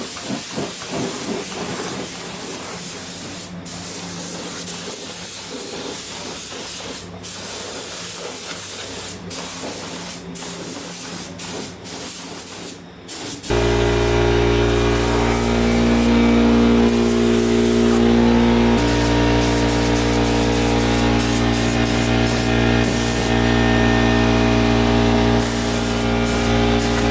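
Spray gun laying a base coat of paint inside a shaved car engine bay, a loud continuous hiss that starts in short bursts, then runs steadily for the second half with no talk.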